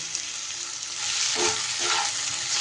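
Raw mango and onion with a little turmeric stirred in a pan over low flame, a soft steady sizzle that swells slightly as the spatula moves, with a few faint scrapes, close and quiet.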